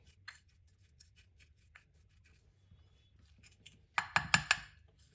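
A cucumber face mask is mixed with fine sugar in a bowl: quiet, faint scraping at first, then a loud cluster of quick clinks and scrapes of a spoon against the bowl.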